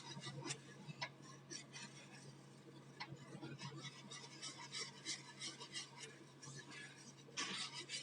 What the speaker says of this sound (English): Again, I am whisking it.